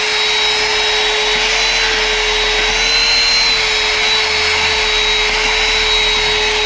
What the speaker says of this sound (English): a good vacuum to get.